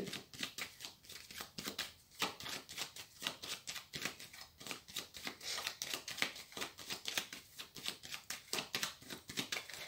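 A deck of playing cards is cut and handled, giving rapid crisp flicking and riffling clicks in quick uneven bursts, close and fairly quiet, with no voices.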